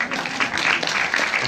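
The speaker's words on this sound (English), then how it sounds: "A round of applause." Brief audience applause at a sickle cell awareness event, a dense patter of clapping heard close and steady for a moment.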